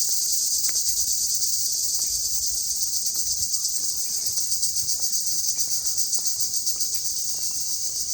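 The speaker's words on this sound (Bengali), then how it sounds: "এত ঝিঝি পোকা দিনের বেলায় ডাকতেছে, অবিশ্বাস্য।" Crickets chirp in daytime beside a maize field, a dense, high, continuous pulsing trill that carries steadily throughout with faint footsteps and small rustles beneath.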